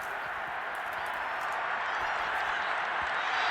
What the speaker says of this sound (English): It's worthy of some applause.